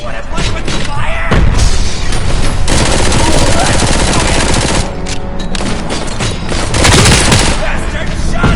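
Gunfire in the video game Robocop Rogue City: loud, rapid automatic bursts and heavy booms firing almost continuously, with a shouting voice mixed in.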